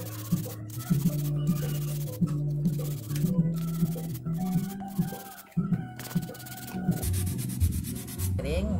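Coarse 120-grit sandpaper rubs by hand across a surface being prepared for paint, in repeated rhythmic back-and-forth strokes, close and moderately quiet, with no talking.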